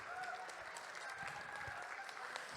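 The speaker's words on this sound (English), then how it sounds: "Give yourselves a round of applause." A dance class at a convention ball dance lesson applauds itself, a steady dense round of clapping from a group in a room, continuous and even throughout with faint voices mixed in.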